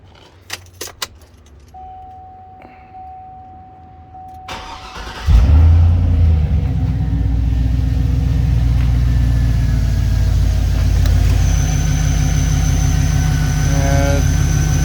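An LS V8 engine swap cranks briefly and fires, then settles into a loud, steady idle close by, with a faint jingle of keys before it turns over; no talking.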